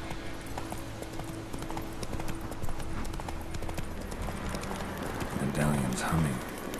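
Horse hooves clip-clop steadily across the ground in the video game The Witcher 3, a repeated rhythmic patter beneath a humming game soundtrack, with a voice speaking over it near the end.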